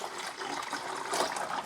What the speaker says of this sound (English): We're going to put the pure vinegar up to the 4 cup mark